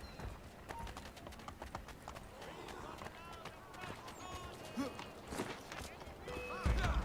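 Rapid, rhythmic hoofbeats of a galloping horse in Assassin's Creed III with occasional snorts and sharp effects, mixed with someone talking over it.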